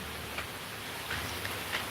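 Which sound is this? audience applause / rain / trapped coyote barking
rain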